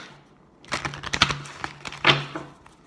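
Tarot cards shuffled quickly by hand, a burst of rapid crisp riffling clicks and snaps up close, arriving in two quick clusters against a quiet background.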